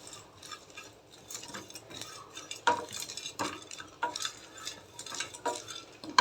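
Cumin seeds and black peppercorns are roasted in a pan and stirred, making light scraping and rattling sounds over a faint sizzle, with intermittent clicks of a utensil against the pan and no one speaking.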